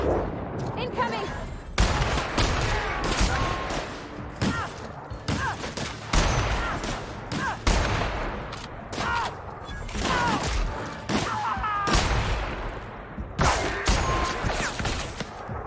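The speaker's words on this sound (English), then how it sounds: "Stop shooting me, you fools." Gunfire in The Outer Worlds video game, with repeated loud bursts of shots and rapid volleys coming in dense clusters and brief gaps, close and sharp throughout, with voices mixed in.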